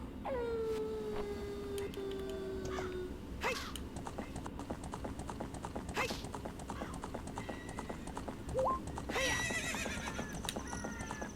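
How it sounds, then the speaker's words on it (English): Hooves clip-clop steadily as a horse runs in Ocarina of Time, with a couple of whinnies breaking through over a continuous game-style background. "We'll get back on the horse."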